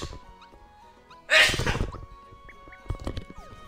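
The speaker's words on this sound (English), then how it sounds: "If I'm not mistaken, I gotta sneeze." A single sudden sneeze bursts out loud and close, followed by brief breathing and rustling, with faint video game music running in the background.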